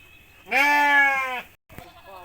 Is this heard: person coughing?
no